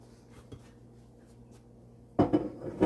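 Apple cake batter stirred in a bowl, with a few soft clatters early on and then a burst of louder scraping and knocking of a utensil against the bowl near the end, close by and without talk.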